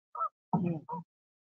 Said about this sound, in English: So those are geese. That's a goose.